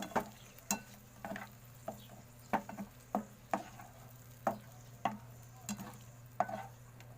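Chicken adobo stirred in a pan, a spoon scraping and clacking in a dozen irregular sharp strokes over a soft, steady simmer, close by with no talk.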